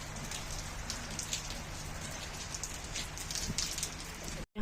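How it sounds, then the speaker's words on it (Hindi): Heavy rain pours down steadily outdoors, a dense, continuous hiss of drops hitting surfaces close by, with no voices, ending in an abrupt cut. "बहुत तेज बारिश हो रही है।"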